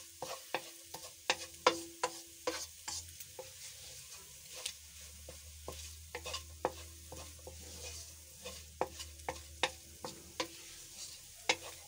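A spoon stirs and scrapes spiced chicken samosa filling around a pan in a steady rhythm of sharp knocks over a soft, constant frying sizzle, close and without talking.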